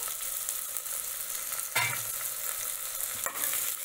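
Green garlic and green chillies stirred into methi khichdi in a pot, a soft continuous sizzle with a couple of brief scraping strokes of the spoon, close and fairly quiet, no talking.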